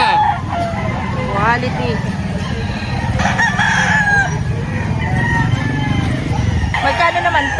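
Roosters crow repeatedly with rising, drawn-out calls and scattered clucking at a busy chicken market in Lipa, Batangas. Steady crowd noise and a passing car sit underneath, and people talk close by throughout.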